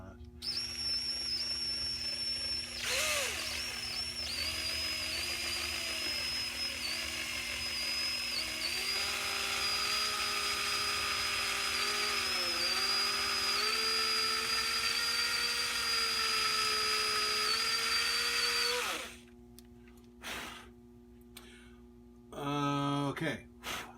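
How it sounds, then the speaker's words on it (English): A power drill bores into a workpiece, a loud steady whine with pitch wavering under load for most of the run, then stopping, followed by a few short bursts of rustling and handling. "before we hit it with the drill."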